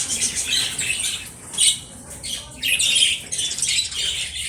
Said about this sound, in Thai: นี่คือต้นเสียงครับ นกหงยก